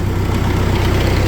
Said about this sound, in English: Pardon the noise. I've got the big tractor in here